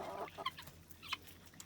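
A big hen on a farm with chickens, geese, ducks and guinea fowl gives a few soft, short clucks, close but quiet, spaced irregularly over a low background hum.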